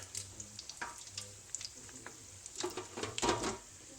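Haggis pakora frying in oil, a close bubbling sizzle with scattered pops that swell into louder bursts near the end.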